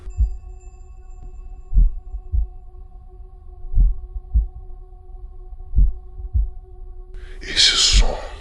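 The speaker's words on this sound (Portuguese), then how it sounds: "Era o batimento do coração do velho." Low, muffled heartbeat thumps pulse steadily under a sustained drone, about a dozen soft beats, before a brief hiss at the end; sound effect accompanying a narrated horror audiobook.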